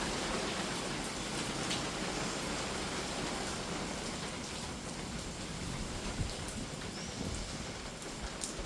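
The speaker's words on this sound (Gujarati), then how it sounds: "અને બહાર વરસાદ ચાલુ થયો" Rain falling outside at night with wind and lightning about, a soft, dense, steady wash of drops heard from indoors, faint and even throughout with an occasional small tap.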